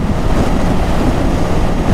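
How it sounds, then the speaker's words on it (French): Steady, loud wind buffets the microphone of a KTM Duke 890 R motorcycle being ridden uphill, a dense low roar that never lets up, with no voices. "Il y a beaucoup de vent aujourd'hui"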